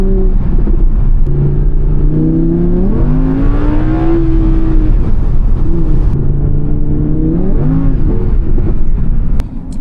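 A mighty Audi R8 V10 supercar drives along a forest road, its engine droning steadily and loud with a rising rev and gear changes.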